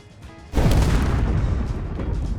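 A sudden loud explosion in the video game Space Engineers bursts in after a quiet moment, then rumbles on as a dense, sustained roar of debris and blast noise.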